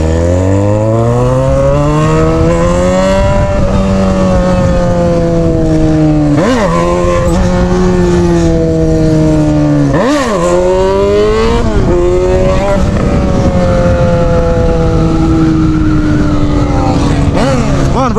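A Yamaha XJ6 motorcycle with an open exhaust pipe revs loudly and close by, its engine pitch climbing and dropping through several sharp throttle blips over a sustained high idle.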